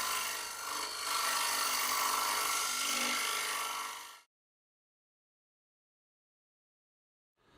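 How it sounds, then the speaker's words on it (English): A wooden bowl turning on a lathe while a mushroom hollowing tool cuts deep under the rim gives a steady, close scraping hiss for about four seconds, followed by silence. "the mushroom tool can access deep under the rim of the bowl"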